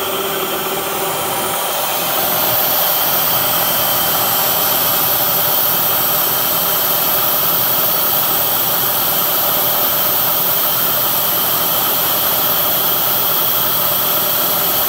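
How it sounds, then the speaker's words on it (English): A servo motor drives a CNC Bridgeport mill fitted with a Masso controller and ClearPath servos, a loud, steady mechanical whine and hum that swells after the first couple of seconds and then holds constant, with no talking. "It's pretty cool to watch the servo motor out here doing its thing."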